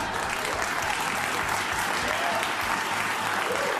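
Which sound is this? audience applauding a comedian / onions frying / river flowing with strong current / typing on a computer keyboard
audience applauding a comedian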